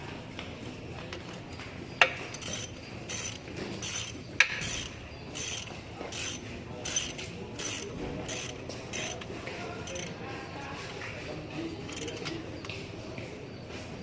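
A bolt being tightened with a ratchet wrench, rapid clicking pawl ticks in short bursts with a couple of sharper knocks, fairly quiet and close in a workshop setting.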